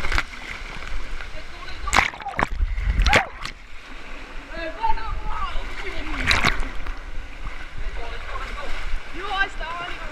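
Water splashes and sloshes continuously on a waterpark rapids ride, with sharp splash bursts over a rushing background as people shout and talk loudly throughout.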